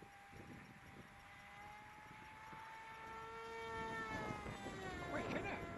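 A Mini Drak model aircraft makes a fast pass on its maiden flight. Its engine gives a high, steady whine that rises and swells toward the end, with people talking quietly beneath it outdoors.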